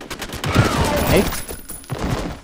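Rapid gunfire in the first-person shooter F.E.A.R., loud continuous bursts filling the whole moment with a brief dip near the end, no talking over it.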